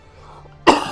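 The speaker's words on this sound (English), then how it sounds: "All right, I'm gonna cough." A single sharp cough bursts out near the end after a quiet stretch, close and loud, from a man pausing mid-talk.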